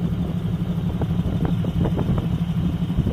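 A vehicle drives along Groom Lake Road near Area 51, its engine a steady low rumble with faint clattering, heard at some distance and continuous throughout.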